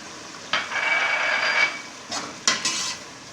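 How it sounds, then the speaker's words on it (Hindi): A spoon stirs and scrapes chana biryani as it fries with salt, biryani masala, chilli and turmeric, giving a soft continuous sizzle broken by several sharp scrapes and clinks against the pot. "इसको अच्छी तरह मिक्स करके भून लेंगे।"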